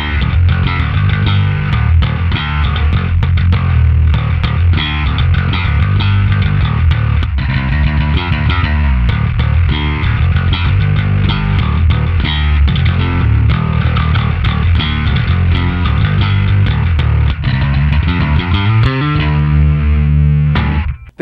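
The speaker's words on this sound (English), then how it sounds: "The GED-2112 is the new Geddy Lee signature SansAmp that features two internal preamps that allow you to dial in two distinct tones." Tech 21 GED-2112 Geddy Lee signature SansAmp preamp pedal played with a driven, distorted bass tone, dense continuous riffing throughout at steady loud level, ending abruptly, with no talking.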